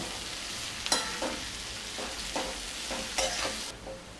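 Onions fry on a high flame, a constant sizzle broken by several sharp scraping strokes as they are stirred in the pan, close and clear with no speech.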